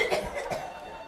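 A woman gives a short, throaty cough up close, a couple of quick bursts that trail off within a second.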